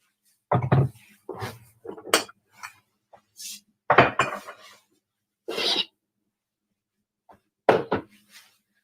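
Dishes and tea containers are shifted around a kitchen counter to clear space while baking a gingerbread cake, with a series of separate clinks, knocks and clatters spaced irregularly, close and fairly loud, no talking.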